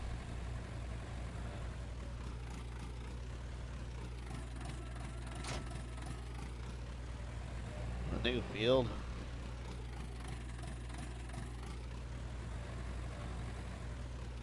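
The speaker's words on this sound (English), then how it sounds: "So this tractor I'm using is the Ursus 4x4 tractor pack" Engine of an Ursus 4x4 tractor in Farming Simulator 19 idles with a steady low drone through most of the stretch, while someone talks faintly over it.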